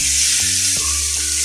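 Mustard seeds, cumin and two or three byadgi chillies sizzle in hot oil for a tempering, a steady bright crackle and hiss that stays loud and close, with a few soft knocks as the spices drop in.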